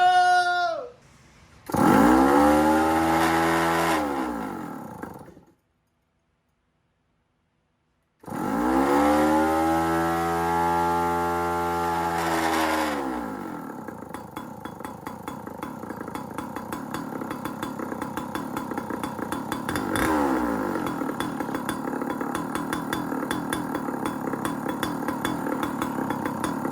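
A small go-kart engine revs up and down in loud bursts with a short silent gap, then settles into a steady, buzzing idle close by.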